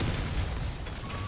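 Explosions from the video game Deep Rock Galactic: Survivor, with a dense low rumble of blasts and bursts filling the whole short stretch at steady loudness.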